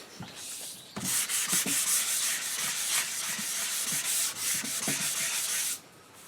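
Sandpaper rubbing rapidly back and forth along the forearm chamfer of an HW30 air rifle's wooden stock, close and loud rhythmic scratchy strokes that pause briefly at the start and end.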